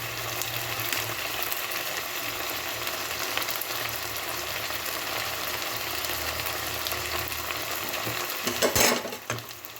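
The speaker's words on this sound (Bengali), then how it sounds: "ভালোভাবে মিশিয়ে নিয়ে লো হিটে মশলাটাকে আমি কষিয়ে নেব" Spice paste of ground cumin, turmeric and Kashmiri chilli powder stirred and fried on low heat for a fish dish with spring onions, a steady soft sizzle with faint scraping throughout and a brief louder clatter near the end.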